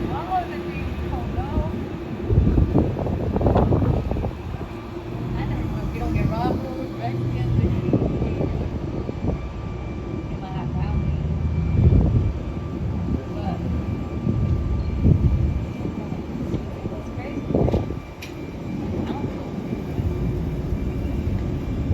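Aircraft taxi and start their engines at an international airport spotting deck, giving a rising and falling jet rumble and whine heard from a distance outdoors, with wind buffeting the microphone and someone talking over it.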